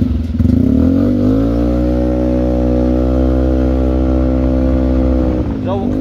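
A motorcycle engine that had sat silent for four years runs on a test ride, loud and close, with a steady low harmonic drone that rises slightly early on and holds evenly before tapering at the end.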